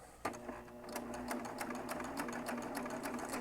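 A serger's motor starts with a sharp click and then runs in a steady, fast, whirring rhythm as it stitches a quarter-inch seam through fabric, fairly quiet and close, with no voices.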